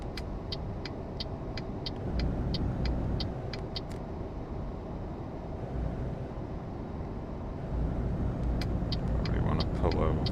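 In Euro Truck Simulator, a car passes the truck on a road between Livorno and Rome, heard as a steady engine and road drone that swells and fades under repeated clicking game sounds.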